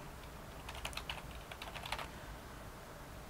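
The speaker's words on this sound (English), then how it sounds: "So let's go ahead and type my preferred or my default text." Keystrokes on a computer keyboard while ad text is entered, a quick burst of soft clicks over about a second and a half, then trailing off into quiet room tone.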